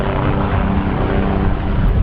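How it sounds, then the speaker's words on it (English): Aircraft pass overhead, a loud, continuous, close engine roar with a dense rumble and no breaks, unaccompanied by speech for the whole short stretch. "TR-3Bs, helicopters, jets."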